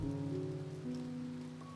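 Steady rain pattering in the video game Anomaly (Finding Paradise), a continuous soft hiss of drops over low sustained tones from the game's music or ambience, with no talking.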